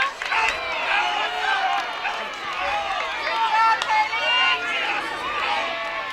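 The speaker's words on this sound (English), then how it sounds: "The crowd really getting on their feet now, excited about this one" A softball crowd cheers and claps in the stands at a college game. The cheering swells and dips at mid distance while a commentator talks over it.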